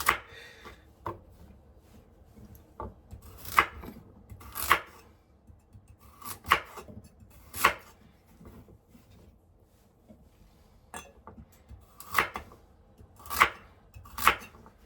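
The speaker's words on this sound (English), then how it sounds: "we're going to cut up our carrots and we're going to keep them in big chunks" Knife chopping carrots into big chunks on a cutting board for a slow-cooker pot roast, sharp irregular thuds in small bursts separated by pauses, close and fairly clear with no talk.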